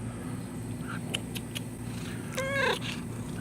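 A cat outdoors in a garden lets out a single drawn-out meow late in the clip, close but modest in volume, over steady low background hum, with a few faint clicks before it.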